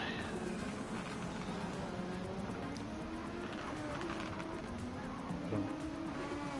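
Race cars in a Gran Turismo Sport online race brake hard, with a steady, loud drone of engine and tyre noise running throughout. Commentary is faintly present.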